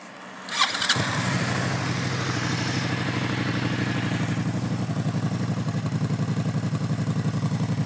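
A 2009 Suzuki SFV650 Gladius motorcycle engine cranks and catches, then settles into a steady, throaty idle with a regular pulsing rhythm, close and loud with no talk.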